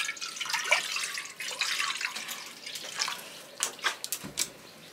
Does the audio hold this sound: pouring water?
yes